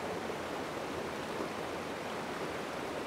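Waterfall at Padley Gorge, a steady broadband rush of falling water, close and even throughout with no voices.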